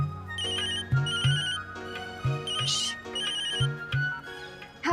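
A mobile phone ringtone repeats a short melodic phrase several times in a steady loop, close and clear, with no voices over it.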